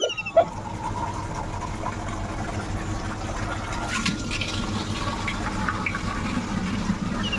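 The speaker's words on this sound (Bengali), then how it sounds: "এই বিছানার চাদরটাও ভীষণ পরিমাণে নোংরা হয়ে গেছিলো তো সেই কারণে এগুলো ভালোভাবে কেচে নিচ্ছি" Dirty clothes and a bedsheet are hand-washed in water, giving steady sloshing, splashing and wet rubbing that continue throughout at close range, with a brief knock near the start.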